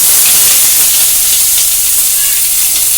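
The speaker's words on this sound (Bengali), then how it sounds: "তেল গরম হয়ে গেছে, আমি তেলেতে পেঁয়াজটা ওই জন্য দিয়ে দিলাম।" Finely chopped onion sizzles hard in hot oil with a loud, continuous hiss, dense and close throughout.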